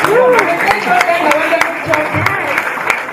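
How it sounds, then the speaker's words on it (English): Conference audience in Kigali claps for presenters, a loud sustained round of applause with speech running over it. "I really want McGregor and Rebecca to come here for people to just clap for you"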